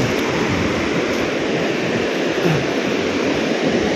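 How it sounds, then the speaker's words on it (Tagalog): A loud, constant roar of rushing ocean surf from strong waves fills the clip, broad and unbroken, with wind buffeting the microphone. "Ang lakas ang alon, oh."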